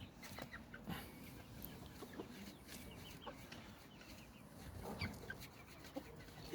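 Small chickens cluck on and off at low level, with scattered short calls over a steady farmyard background; no one speaks.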